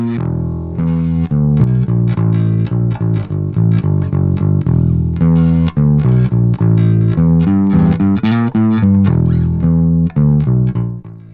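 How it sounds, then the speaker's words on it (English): Guitar running through the Nembrini BlackIce Beta Gamma plugin with the gain turned up gives loud, thick, saturated distorted riffs and chords, played continuously and alone with no talking. "let's just hear it with the gain wound up."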